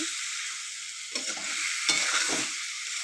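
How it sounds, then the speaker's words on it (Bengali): Katla fish curry (jhol), already spiced, sizzles steadily in the pan while being stirred, with two louder scraping stir strokes rising over the constant hiss. "এখন আমি কাতলা মাছের ঝোল রান্না করছি"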